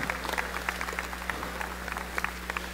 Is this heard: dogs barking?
no